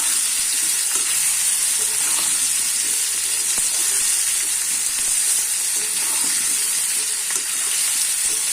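Continuous bright sizzle of small baby potatoes frying in a wok, with occasional soft clicks of a spoon; no voices.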